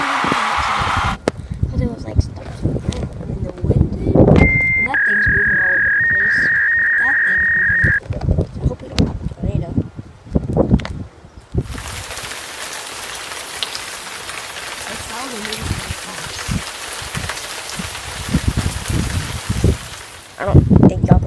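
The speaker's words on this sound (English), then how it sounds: "It is so windy right now" Gusty wind buffets the microphone outdoors, roaring over patter like rain, with a tone sounding briefly in the middle.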